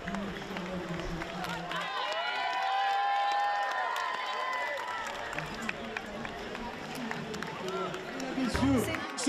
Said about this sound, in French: avec le public s'il vous plaît, applaudissements, plus fort, encore plus fort pour ces femmes et ces hommes